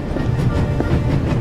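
A train runs at full speed in The Raven Remastered video game, its steady loud rumble carrying a rhythmic clickety-clack of wheels over rail joints, heard alone without talk.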